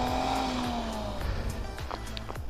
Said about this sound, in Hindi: ओ गाड़ी हटा दो आगे से, अबे गाड़ी स्लिप करेगी